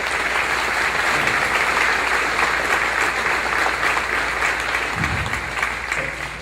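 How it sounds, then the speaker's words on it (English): An audience at a 2019 cooperative annual meeting applauds in a steady, dense burst of clapping that carries on throughout and tapers slightly at the end. "So let's give them all a hand"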